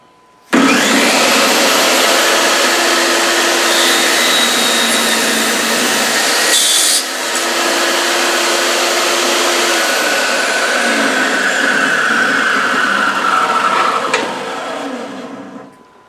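A table saw with a dado blade cuts through wood: a loud, close whine and rasping roar begins abruptly, holds steady with a brief change partway, then winds down near the end.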